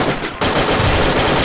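Rapid automatic gunfire in a video game, a dense continuous burst of shots filling the whole moment, loud and close with no pause.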